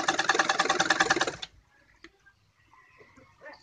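Sewing machine stitching the fitting seam of a kurti, a fast steady run of needle strokes for about a second and a half, then stopping, leaving faint handling clicks and rustle.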